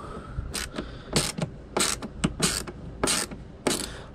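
Ratchet tool clicking while undoing screws on the mass air flow sensor of a Mercedes C180 W203 1.8 Kompressor: repeated sharp ratcheting bursts in an irregular rhythm, close up, with no talk.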